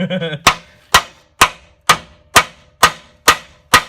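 A hammer pounds on the cross member of a Chevy S10 truck during a solid axle swap, eight sharp, evenly spaced metallic blows close by, each ringing briefly, after a short burst of voice at the start.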